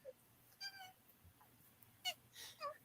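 A pet cat meows indoors, several soft high mewing calls spread across a few seconds, faint and fairly close in a quiet room with little else heard.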